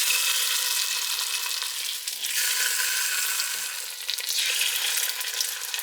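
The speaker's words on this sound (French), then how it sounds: "Dans mon faitout, je mets mon huile de cuisson. Et j'y mets mes morceaux de seitan à cuire." Seitan pieces fry in cooking oil in a pot, giving a loud, close, steady sizzle that thins briefly in two spots and then swells back, with no speech.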